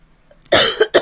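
A single throaty cough bursts out at close range, followed by a quick second, shorter cough, with quiet before.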